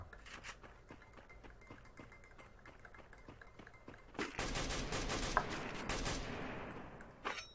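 Gunfire from the Free Fire mobile video game: a run of quick, rhythmic shots, followed by a denser, louder burst of rapid fire and one final shot, with no talking.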